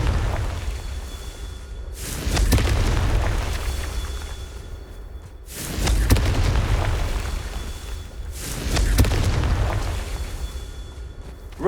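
Confringo fire spells in Hogwarts Legacy blast three times at a steady pace, each one a heavy booming explosion with a crackling, rumbling tail that fades before the next hit.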